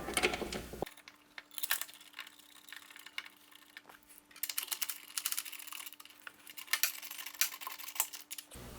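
Oil catch can hardware being fastened to a Nissan Skyline R33/R34 RB26 car body, heard as faint, irregular small metallic clicks and ratcheting taps scattered over a quiet background.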